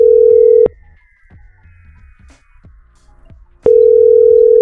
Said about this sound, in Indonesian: Lalu saya akan telepon balik dari VMware menuju ke Android.